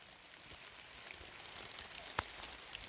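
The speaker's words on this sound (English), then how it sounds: "it's pouring with rain." Rain falls outdoors on a grassy field as a faint, steady hiss of drops with a few sharper patters and one brief louder tap, no voices.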